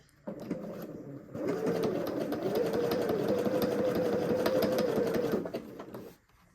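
A sewing machine starts stitching at the corner of the fabric, a close, steady mechanical whirr with a rapid rhythmic needle rattle running for about four seconds before stopping.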